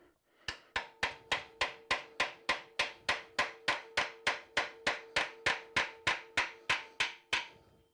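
A chisel is hammered into the seam between Honda CB350 motorcycle engine cases in a workshop, producing about twenty sharp, evenly spaced metallic taps with a ringing tone, close and loud, with no talking.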